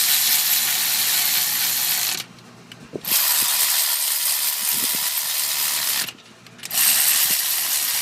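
A ratchet tightens camshaft bolts on a Toyota 22RE cylinder head, loud rapid clicking in two long bursts separated by brief pauses with faint metallic handling.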